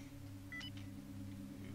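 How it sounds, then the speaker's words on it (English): Short electronic beeps from a TARDIS console room in a Fallout New Vegas mod, a couple of faint high chirps over a steady low droning hum. "there are classic console room sounds going off as I press each button"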